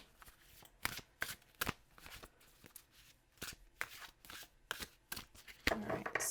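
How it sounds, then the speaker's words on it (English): A deck of Witch's Wisdom oracle cards is shuffled by hand in quick, irregular riffling bursts, close and crisp, with no talking. "I decided to pull out my Witch's Wisdom oracle cards. So yeah, let's give her a shuffle."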